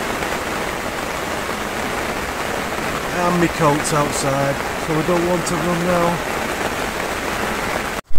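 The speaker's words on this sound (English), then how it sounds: "Can you believe that rain?" Heavy rain pours down in the early hours of the morning as a dense, constant hiss throughout, while people talk over it partway through.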